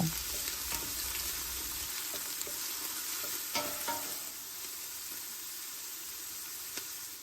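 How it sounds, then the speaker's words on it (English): Sweet onions sautéing in a pot for thick vegetable soup, a faint continuous hiss and sizzle with occasional light stirring clicks. "We're sauteing these beauties till they're translucent"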